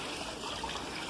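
Cold mineral spring water on a forest trail trickles and splashes steadily, a soft continuous wash of flowing water close by with no voices.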